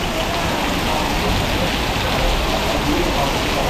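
A heavy downpour falls at Pha Chang cave in Laos during the rainy season, a loud, constant wash of rain on surfaces close by with no letup.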